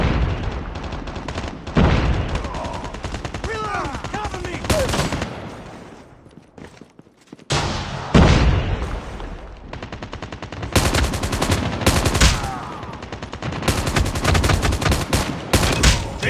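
Repeated bursts of M4 rifle fire in Call of Duty Mobile multiplayer, loud and close, in clustered rapid volleys with brief pauses, mixed with game announcer callouts and battle effects.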